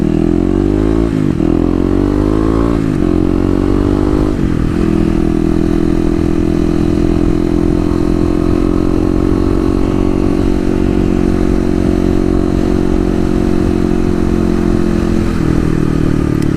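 Kawasaki KLX250 dual-sport motorcycle engine running loud and close throughout while riding, revving up through gears in the first few seconds before settling into a steady, buzzy mid-pitched drone with some clatter.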